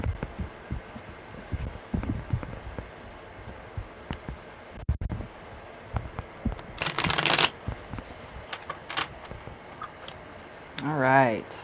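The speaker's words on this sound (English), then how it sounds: "one more good shuffle." A deck of tarot cards is shuffled by hand in soft, rustling bursts with one louder riffle partway through, close and fairly quiet, with a voice speaking now and then.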